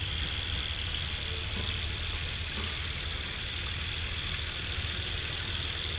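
Diesel locomotive 4029 idles during morning shunting in a rail yard, a steady continuous low rumble with a constant high whine over it, moderately loud and unbroken throughout.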